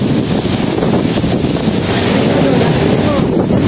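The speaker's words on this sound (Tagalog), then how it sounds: "Sabi, lakas ng hangin." Strong wind buffets the open deck of the MSC Grandiosa cruise ship at the port of Messina, a steady loud roar with low rumble and faint water noise, continuous throughout.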